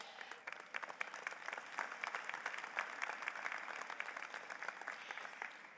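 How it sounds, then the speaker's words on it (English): Graduates, faculty and staff applaud at the Decker College of Nursing and Health Sciences 2022 commencement, a dense, steady wash of many hands clapping at once that holds evenly throughout. "pat yourselves on the back and give yourselves a round of applause"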